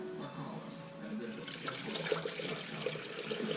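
Water pours and splashes steadily into a Toyota's leaking coolant system, a continuous gurgling rush with no voices.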